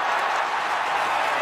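A cartoon crowd storms a field in a dense, steady roar of cheering and shouting voices, loud and unbroken throughout.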